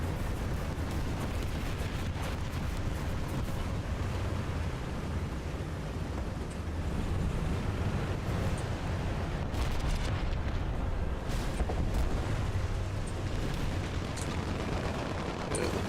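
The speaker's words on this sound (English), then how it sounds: "Artillery is dropping in." Artillery shells explode in the War Thunder tank game as a dense, continuous low rumble of blasts and booms, loud and unbroken throughout.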